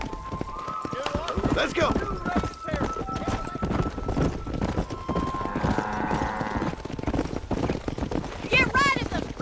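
Horse hooves clip-clopping at a run in the Red Dead Redemption video game, steady under loud game music, with people talking and shouting over it and a brief whinny near the end.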